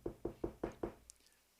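Five soft, evenly spaced knocks on a door, hollow and muted, followed by a faint light clink as the sound dies away into quiet.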